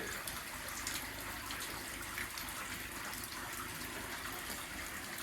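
Fast-running water pouring into a flooded gold mine after days of rain, a steady, faint, rushing gush that continues unbroken with no voices.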